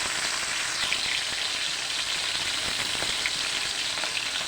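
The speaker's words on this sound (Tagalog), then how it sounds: "Simulan ko na guys ang pagpiprito ng isda." Fish frying in hot oil, a dense continuous crackling sizzle with scattered pops, steady and close throughout.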